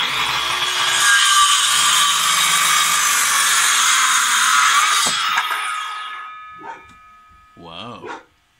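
Wood being sawn with a power saw, a loud, close, sustained buzzing cut lasting several seconds that winds down, followed by a dog barking and brief talk.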